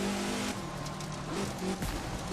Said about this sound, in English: I'm driving a rally car in the Grand Canyon at night